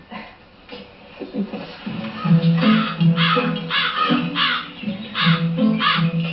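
A crow caws repeatedly and loudly, its harsh calls coming in quick bursts close by, during an animal cognition experiment with a box fitted with a short tube.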